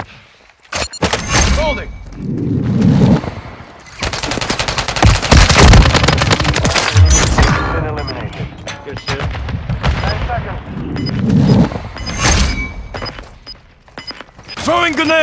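Rapid automatic gunfire and heavy blasts in the shooter game Modern Warfare 3, loud and nearly continuous in bursts, with voices shouting callouts over the shooting.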